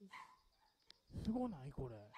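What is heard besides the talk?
dog barking in a played video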